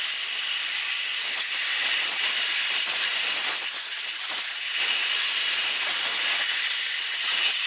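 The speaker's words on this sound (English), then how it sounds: "I'm going to cover this up with my thumb and then blow this junk out of there." Compressed air blasts debris out of the float bowl of a two-cylinder Briggs & Stratton carburetor, a close, steady, loud hiss with slight fluttering variations throughout.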